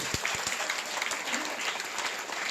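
An audience claps for staff at an event, the applause moderate and steady with a few sharp individual claps standing out near the start, and a voice briefly heard underneath.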